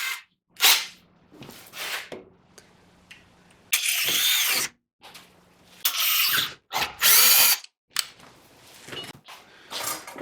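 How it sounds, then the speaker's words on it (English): A power drill whines in repeated bursts as it bores a bolt hole through metal, loud and close, separated by short pauses and quieter mechanical handling noises. "what I'm doing here is just drilling the top bolt hole so that it can pivot."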